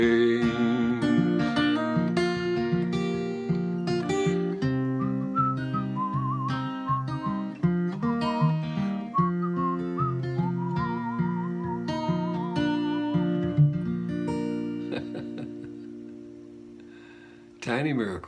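A person whistles a wavering melody over a steady musical accompaniment, the tune carrying clearly above the backing for most of the stretch.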